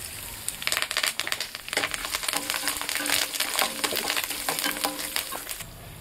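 Curry leaves and asafoetida crackle and sizzle in hot oil while tempering for pulihora, a close, busy spatter of sharp pops over a steady hiss, with some stirring noise.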